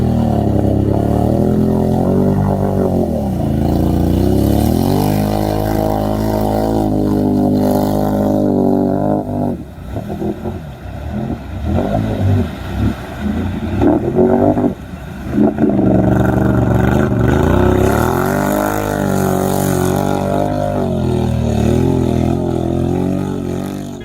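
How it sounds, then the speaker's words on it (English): Mega truck engines roar in a mud pit, a loud sustained growl with rising and falling revs, rough sputtering bursts in the middle, then heavy revving again, with no talking. "Some of these beasts are crazy powerful, engines roaring like monsters."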